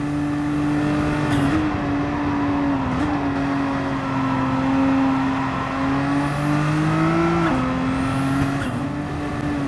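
Race car engines roar in Gran Turismo 7 during a Skyline GT-R race as a Corvette exits the pit, a loud, continuous droning whine that rises and dips in pitch with shifting and throttle, steady throughout.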